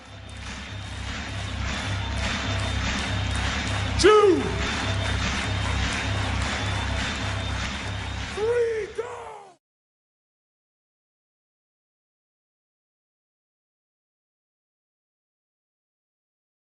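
A large seminar audience claps continuously in a big hall, a dense sustained roar of applause with crowd noise and a voice calling out briefly, before it cuts to silence.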